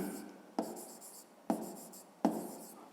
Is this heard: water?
no